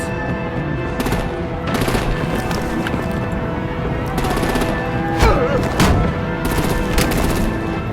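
Heavy gunfire in the Batman: The Enemy Within game: repeated loud bursts of rapid shots over a constant rumbling battle backdrop, growing more intense toward the end, with no talking.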